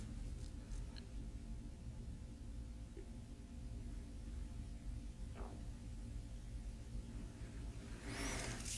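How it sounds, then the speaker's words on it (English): Distant traffic drones steadily through a quiet room during a guided meditation, a low continuous rumble with faint passing swells and a brief hiss near the end, with no one speaking. "Hear the sound of traffic,"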